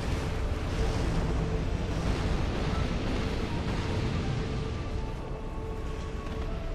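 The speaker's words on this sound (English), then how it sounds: "Avoid the big explosion and then..." A big explosion in Dark Souls II, with flames roaring as a dense, loud rumble that holds steady for several seconds and eases slightly near the end.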